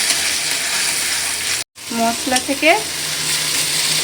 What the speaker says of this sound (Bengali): বেটে রাখা টমেটো, পেঁয়াজ, আদা, রসুন একসঙ্গে বেটে নেওয়া মশলাটাও দিয়ে দিলাম, দিয়ে ভালো করে কষিয়ে নিলাম।